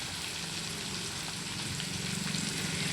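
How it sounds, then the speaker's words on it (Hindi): Fish pieces fry in hot oil on a low flame, giving a continuous, even sizzle and gentle hiss like light rain, with no voices. "ये शू शू इसीलिए आवाज़ आती है कि जब हम तेल में डालते हैं मच्छी को"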